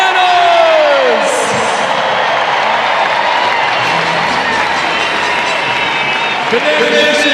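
A large crowd cheers, whoops and applauds at a Savannah Bananas baseball game in Nationals Park, a loud sustained roar filling the stadium, with an amplified announcer voice and a brief whistle over it.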